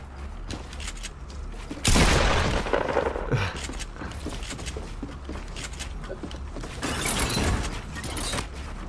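Rapid SMG spray in Fortnite during a 1v1 build fight, heard as dense bursts of close gunfire with a loud blast near the start and another flurry later, layered over clattering game sounds.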